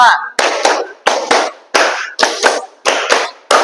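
Students in a classroom clap in quick rhythmic groups, about eight sharp bursts of group clapping in close succession after a brief voice at the start.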